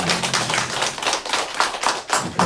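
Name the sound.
congregation applauding in church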